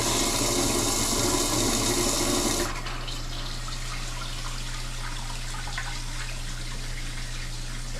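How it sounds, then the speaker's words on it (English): A smart toilet flushes with a loud rush of water for about three seconds, then it settles into a quieter, steady refill with a low hum running under it. "Flush it."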